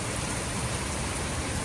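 Steady, dense hiss of heavy rain pouring continuously, broadband and fairly loud with no pauses or voices.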